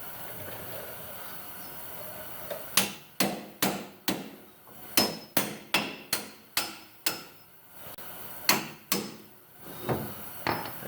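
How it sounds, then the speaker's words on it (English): Metal pry bar and tool clanks on the lower control arm of a 2004 Toyota Tundra during shock and strut replacement, a series of sharp ringing hits in an irregular rhythm, close and loud, with no speech. "get a little pry bar action, get this pried down so you can get this bolt back through on the bottom"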